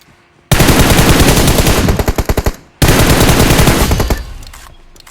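Automatic gunfire in the BGMI battle royale game on the Erangel map: two long, loud, close rapid-fire bursts separated by a brief gap, the first stuttering into separate shots before stopping, with no talk.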